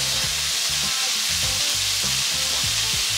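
Broccoli and carrots fry loudly in a pan for Mauritian fried rice, with a dense, constant sizzle and rhythmic stirring scrapes underneath.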